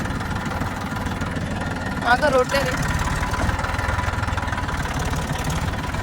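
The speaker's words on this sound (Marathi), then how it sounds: "आता मी ट्रॅक्टर वरती बसते." A tractor's diesel engine idles with a steady low chugging throughout, while a person speaks briefly over it partway through.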